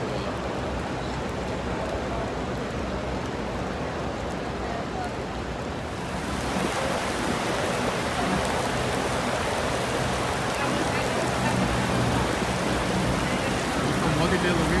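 Heavy rain pours down at Masjid-e-Nabawi in Saudi Arabia, a steady dense hiss that grows louder and fuller about halfway through, with people talking faintly underneath.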